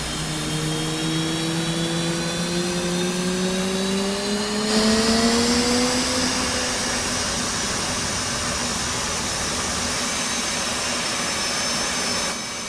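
The right jet engine of an F/A-18 spools up in DCS, a loud steady turbine whine rising in pitch and then settling into an even roar with a high hiss on top, no voices present.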